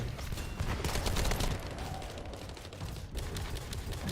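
Rapid gunfire from the game Counter-Strike rattles in dense, continuous bursts, loud and close, with no talking.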